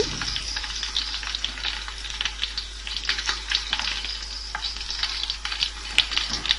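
Ginger paste frying in a pan for a quail roast, a steady crackling sizzle with soft stirring scrapes throughout, close and moderately loud, no voices.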